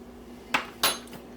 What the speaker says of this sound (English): And back in the oven it goes for another 20 minutes or so